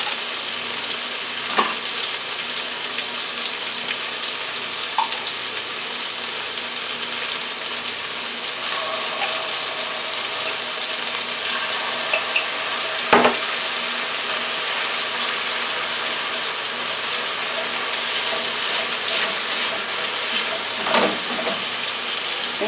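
Chicken fries in a pan as sweet orange marmalade melts in, giving a steady dense sizzle throughout, with occasional light clinks and a brief utensil knock midway.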